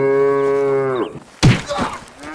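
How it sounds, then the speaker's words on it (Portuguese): A cow in the video game Red Dead Redemption 2 gives one loud, close, drawn-out moo that fades out, followed by a sharp thwack and some shuffling noise. "Olha a vaca relaxando, ó."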